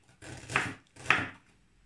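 Two separate knife strokes cut across ginger root on a board, each a short crisp slicing crunch. They are close and fairly quiet, with near silence between them.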